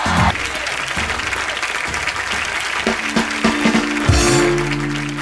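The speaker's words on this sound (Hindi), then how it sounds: "प्लीज जोरदार तालियों से स्वागत कीजिए" A television comedy studio audience bursts into loud applause to welcome a guest, with dense clapping and a few cheers, while some music enters near the end.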